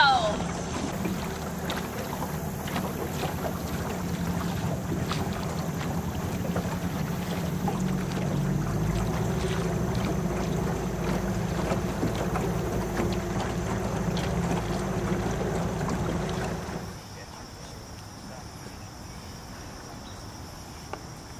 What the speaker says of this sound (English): Come on, LlynnAnn, move that boat.